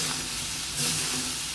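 Cauliflower pepper fry stirred in a pan gives a brief, dense hiss of sizzling with a faint scrape midway, close and continuous.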